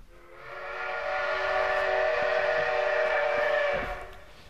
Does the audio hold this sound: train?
yes